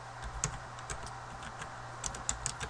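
Typing on a computer keyboard, quick uneven bursts of close key clicks over a steady low hum with no talking.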